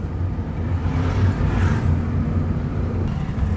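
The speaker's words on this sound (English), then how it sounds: "when you feel that you are hearing a roaring sound from your engine, means you need to upshift the gears" A manual car's engine roars with a steady, loud, low rumble that stays constant throughout, with no voices.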